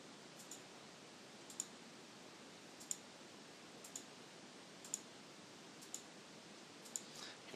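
Faint, regular clicks about once a second, like a computer mouse being clicked, over a soft hiss of background noise.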